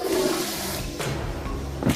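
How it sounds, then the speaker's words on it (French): A toilet flushes with a rushing, gurgling swirl of water, close by, lasting about two seconds with a slight surge near the end. "Electra, tire la chasse d'eau."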